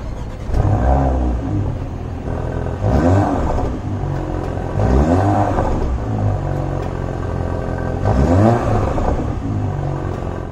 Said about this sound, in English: how this Porsche Macan, the 4-cylinder, sounds